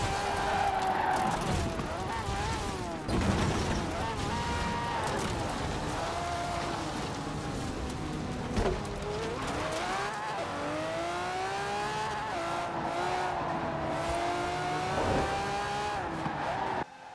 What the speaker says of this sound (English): it's not the type of car you would expect to become insanely good in accelerating